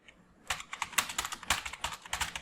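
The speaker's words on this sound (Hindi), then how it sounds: "तो यहाँ पे मैं टाइप करता हूँ वर्टेक्स" Fingers type on a computer keyboard nearby, a quick irregular run of crisp key clicks after a brief quiet start.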